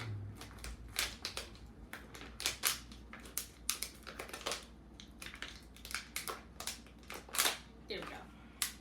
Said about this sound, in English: my scissors are going all the way through